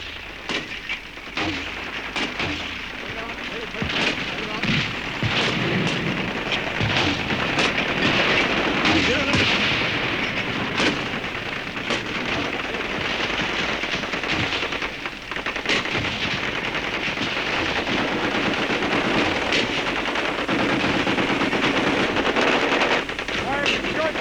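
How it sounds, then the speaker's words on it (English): Wartime combat with a dense, continuous barrage of rifle and machine gun fire mixed with mortar blasts, rapid cracks and bursts overlapping steadily at loud, close range with no gaps. "they unleashed thousands of rifle and machine gun rounds, plus mortars and grenades, without ever seeing the enemy"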